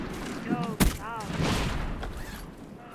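Bursts of L9 gunfire in a video game, sharp clustered shots with one loud crack near the start, mixed with game effects and players talking over the action.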